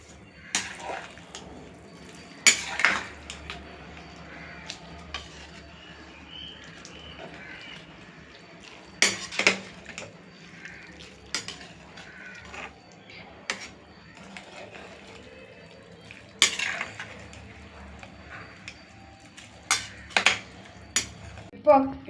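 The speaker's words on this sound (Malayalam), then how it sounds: "നല്ലപോലെ ഇളക്കുക" A spoon stirs a cooking pot of vegetables, with scattered metallic clinks and scrapes against the pot over a low kitchen background, and a few sharper knocks come at irregular intervals.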